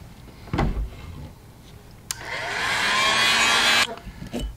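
Heat gun heat-setting paint on a thin fin lure: a click, then a steady close blowing whir that builds for under two seconds and stops, with faint handling sounds around it.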